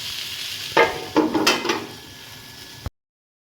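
A small splash of water is poured over chicken frying in a pot for a local chicken khichdi, setting off a few loud, close hissing bursts of sizzle that fade to a low simmer before cutting off.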